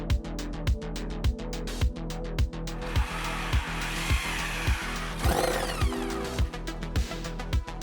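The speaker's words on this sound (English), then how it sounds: "Locked in place, blade spinning fast, way slices cleaner than a loaf of bread." A machine saw's blade spins fast and slices through material in a factory, a loud continuous mechanical drone broken by regular rhythmic thumps about twice a second, with a brief harsh grinding burst partway through.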